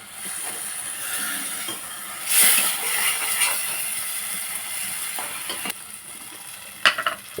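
Tomatoes dropped into a hot pan for pesarapappu charu, a continuous hiss of frying with a louder burst of sizzle as they land, scattered stirring knocks, and a couple of sharp clinks near the end; no talking.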